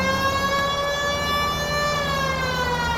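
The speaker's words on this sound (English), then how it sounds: "let's just turn the siren on." A police car siren wails continuously in the video game L.A. Noire, loud and close, a steady, sustained electronic tone held throughout without any talk over it.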